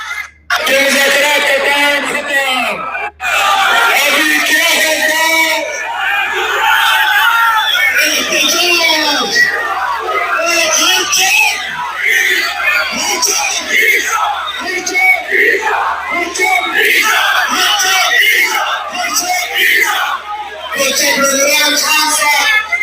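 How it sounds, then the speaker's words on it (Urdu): A large crowd at a political protest in Pakistan chants slogans in loud, rhythmic unison, voices swelling and repeating in waves, close and energetic throughout. "یہ نعرے سنیے صرف"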